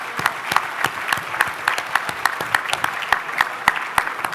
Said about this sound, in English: And another round of applause for His Royal Highness,